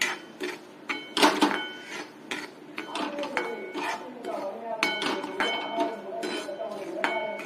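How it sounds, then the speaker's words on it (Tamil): Semolina (rava) roasting in ghee in a pan for traditional rava laddu, with repeated metallic scrapes and clinks of a spoon against the pan, close up, over a faint sizzle and background voices. "இப்போ ரவையை நல்லா சிவக்க அதில் வறுத்துக்கணும்."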